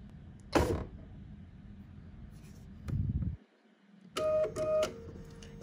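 A Bernina embroidery machine stitching cutwork appliqué gives short mechanical bursts of rapid, printer-like whirring and clicking, with a quiet pause between runs, close and fairly soft.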